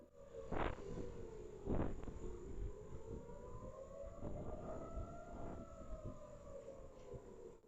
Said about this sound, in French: des sirènes